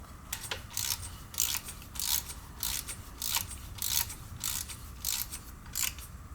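Ratchet clicking in short repeated bursts while tightening bolts on a 1990 Onan P218 engine, a crisp metallic ratcheting heard up close with regular pauses between strokes.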